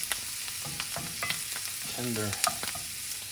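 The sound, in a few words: venison and hen of the woods mushrooms sautéing in a pan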